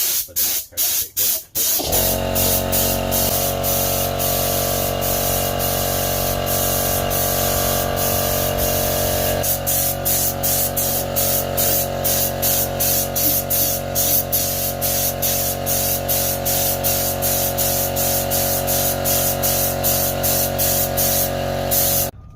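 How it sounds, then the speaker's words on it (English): Spray primer hisses steadily from a spray gun or can in the engine bay of a Mk3 Golf GTI under restoration, one loud continuous blast lasting about twenty seconds after a few short bursts, with no talking. "So we've done a first light casting of the primer all the way around there"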